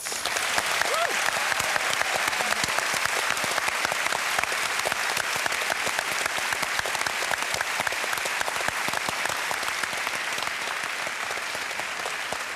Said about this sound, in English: A big round of applause also for this wonderful West Australian audience